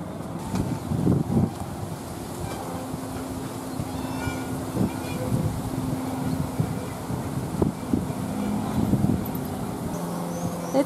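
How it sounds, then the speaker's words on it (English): Steady wind buffets the microphone in a continuous low rumble at the Sugar Mill Ruins near New Smyrna Beach, Florida, with occasional louder gusts and a faint engine hum underneath. "It's kind of windy,"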